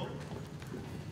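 Horse hooves clip-clop in a steady, fairly soft rhythm while an equestrian team rides, the plodding beats running the whole stretch over a low, even background.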